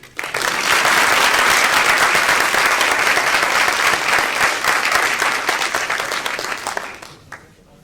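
Loud, sustained applause from an audience welcoming Virginia Governor Ralph Northam at a Year of the Nurse and Midwife event. It starts abruptly, holds steady for several seconds, then fades out near the end.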